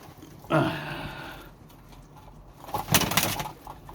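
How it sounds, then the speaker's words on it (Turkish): Mardin tumbler pigeons coo outdoors in two separate bursts, a soft throaty call followed by a louder one after a quiet gap, with faint background noise. "Şimdi dışarıda kuşlar var"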